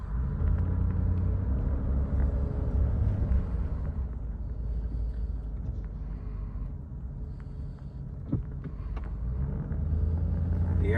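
A 1990 Lincoln Town Car Cartier with air suspension driving along, its steady low engine and road rumble filling the cabin continuously at close range, with a brief knock partway through.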